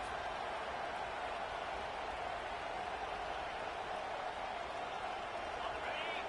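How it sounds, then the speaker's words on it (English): A stadium crowd at an American football game roars, urging the defense on. The sound is a steady, dense wash of distant cheering that holds at an even level throughout. "The roar of the crowd trying to fuel this defense to keep them pinned in their own end."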